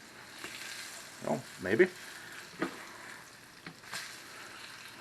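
Swai fish fillets frying in butter in a pan give off a soft, steady sizzle, with a couple of brief scrapes and bumps as the fillets are flipped; a voice speaks briefly over it.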